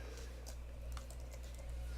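Soft keystrokes on a computer keyboard while CSS code is typed, a few faint clicks over a steady low hum, close and quiet.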